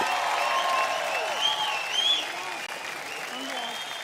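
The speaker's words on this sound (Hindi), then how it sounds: "जोरदार तालियां हो जाएं" Applause from an audience honouring the fourth-place winners at a talent competition, steady clapping under a host's voice and music tones, easing slightly toward the end.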